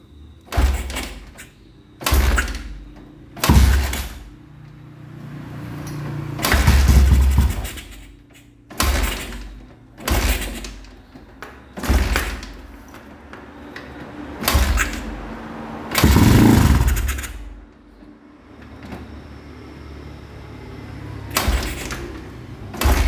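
A Honda CB motorcycle engine is kick-started over and over, about ten heavy thumping kicks with short cranking bursts at irregular intervals, close by, with the engine never clearly settling into a run.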